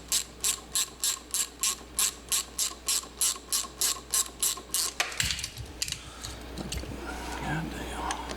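Rapid ratcheting clicks from tightening down the springs on a Yamaha YZ250 motorcycle in a home garage, a steady run of about sixteen even bursts that stops abruptly, followed by quieter tool handling and faint shuffling.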